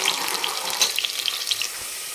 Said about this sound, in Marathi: तर कांदा आपला छान परतला आहे बघा तेलामध्ये